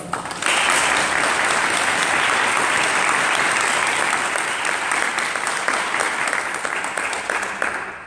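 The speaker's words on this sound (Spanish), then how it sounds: "Un aplauso, por favor." An audience at a book presentation claps steadily, a bright, dense wash of applause starting abruptly and continuing for about eight seconds before slowly thinning.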